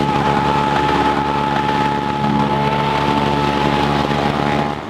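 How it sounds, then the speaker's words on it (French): Small airplanes drone overhead during a Bastille Day flypast near Paris, a loud, steady engine roar with a sustained tonal whine that holds for the whole stretch, no voices over it. "qu'est-ce qu'ils font chier avec leurs petits avions, là"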